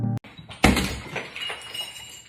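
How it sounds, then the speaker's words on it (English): A glass door smashes with a sharp crash, followed by shards tinkling and scattering as the sound quickly fades; a brief click comes just before. "He smashes a glass door"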